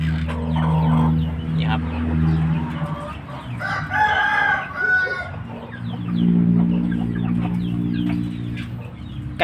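Bantam hens cluck steadily in a Thai backyard, with a rooster crowing loudly nearby and other fowl calling around them, a continuous close farmyard chorus.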